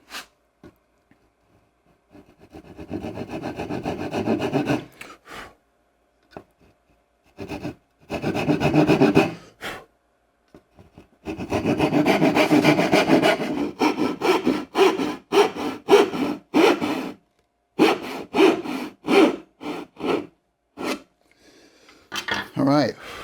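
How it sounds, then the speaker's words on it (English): A hand saw, the same one used for the dovetails, cuts out dovetail waste in a wooden board. It sounds as bursts of rasping back-and-forth strokes with short pauses between them, fairly close, with no talking. "So I'm using the same saw I used to cut the actual dovetails."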